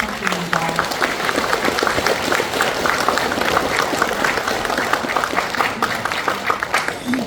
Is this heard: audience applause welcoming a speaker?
yes